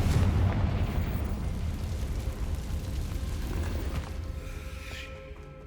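A Confringo fire spell detonates in the video game Hogwarts Legacy, a deep booming blast up front that settles into a rumbling, crackling tail fading over several seconds, with no talk.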